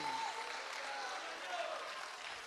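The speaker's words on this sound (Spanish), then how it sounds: "Un aplauso fuerte al Dios que vive." A church congregation gives loud applause during a sermon, a steady wash of clapping with faint voices rising through it.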